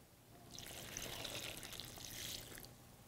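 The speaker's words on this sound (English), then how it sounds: "Just gonna pour it in here." Salt brine of vinegar and water is poured into a pickle jar, a soft continuous splashing pour lasting about two seconds, close and quiet with no talk.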